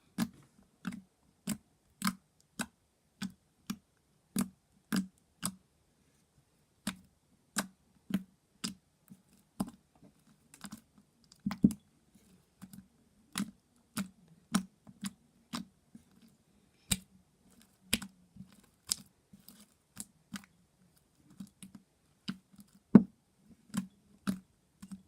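Sticky slime squished by hand in an ASMR session, giving a steady run of sharp, close wet clicks and pops at a regular pace, with occasional softer squelches and no talking.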